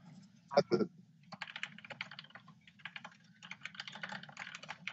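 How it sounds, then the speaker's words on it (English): Typing on a computer keyboard during a gaming podcast: a quick run of soft, close clacks in irregular bursts, with a faint low hum underneath. "Sorry, I was just typing something there."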